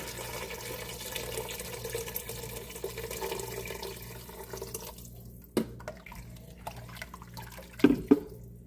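A steady stream of water pours into a cooking pot for several seconds, then cuts off, leaving a few splashes and clunks nearby.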